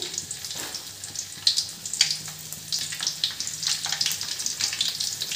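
Garlic added to hot oil in a pan for hakka noodles sizzles loudly and continuously, a bright crackling hiss up close with scattered sharper pops, no voices.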